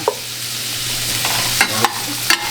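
A dark roux for Louisiana seafood gumbo is stirred in a pan with andouille sausage, giving a steady close sizzle broken by a few sharp scrapes and clacks of the spoon against the pan.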